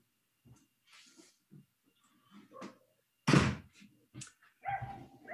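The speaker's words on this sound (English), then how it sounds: "I shut my door to stop a barking dog" A dog barks in a few scattered, muffled bursts, one sharp loud bark standing out, heard indoors in quiet surroundings.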